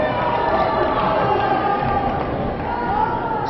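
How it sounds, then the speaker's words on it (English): Wahlert home fans at a girls basketball game, Hempstead at Wahlert, fill the gym with sustained crowd noise and cheering, steady and fairly loud, with no clear break. "Round of applause from the Wahlert fans in front of us for the effort of the home team tonight"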